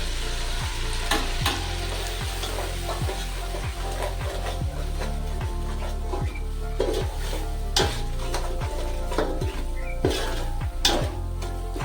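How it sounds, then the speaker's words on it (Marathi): Ground spices sizzle steadily in a hot pan of onion, tomato and yogurt base for chicken biryani gravy, with the scrape and clink of a spoon stirring at a regular rhythm throughout, no talk. "हे मी आता मसाले ऍड करून घेते. सगळे मसाले आपल्याला यामध्ये टाकून घ्यायचे."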